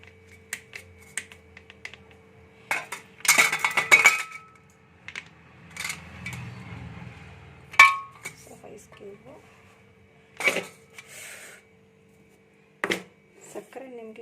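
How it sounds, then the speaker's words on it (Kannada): Four ice cubes drop into a mixer jar holding pomegranate, making a handful of sharp clinks and knocks spread out over quiet moments, close by, with low voices at times. "ಸೊ ಇಲ್ಲಿ ನಾನೊಂದು 4 ಐಸ್ ಕ್ಯೂಬ್ಸ್ ಹಾಕ್ತಾಯಿದ್ದೀನಿ"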